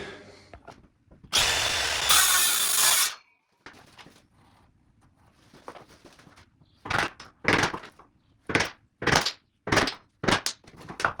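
A power saw briefly cuts through wood for a half lap joint on barn door cladding, followed by a string of sharp knocks and rubbing sounds as the cut piece is worked loose.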